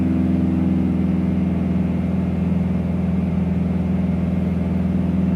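Steady, loud drone of a Bonanza V-tail's propeller engine in flight, a constant hum with no change in level throughout and no talking.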